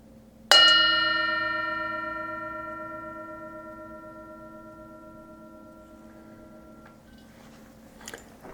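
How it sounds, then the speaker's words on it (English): A meditation bell is struck once at a Sunday morning sangha gathering, a clear resonant ring that hums and slowly fades over several seconds, followed by a faint small knock near the end. "I'll ring the bell"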